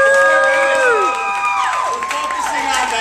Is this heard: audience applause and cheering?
yes